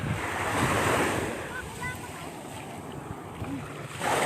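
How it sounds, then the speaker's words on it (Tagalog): Ocean waves surge and wash steadily at a beach in Zambales, a continuous loud roar of surf with wind buffeting the microphone throughout. "Parang lumakas yung alon."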